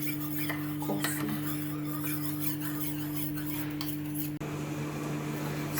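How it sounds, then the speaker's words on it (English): A spoon scrapes and taps steadily inside a cup, mixing instant coffee for cold coffee, a close continuous rasping with small clinks over a steady electrical hum. "So now we have to mix it until the coffee gets activated"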